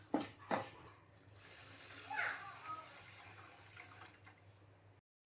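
Water poured over roasted rice in a pot while preparing black urad dal porridge, a steady splashing rush that fades gradually, with a faint hum underneath.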